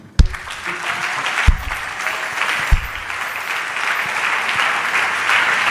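A church congregation at a Sunday worship service applauds, a dense, sustained roomful of clapping with a few sharper claps near the start, fairly loud and continuous.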